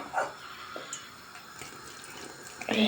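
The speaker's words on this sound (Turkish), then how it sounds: "Bir çaydanlık su koyduk hemen." Running water pours steadily into a teapot for a few seconds, a soft continuous wash with a brief clatter near the end.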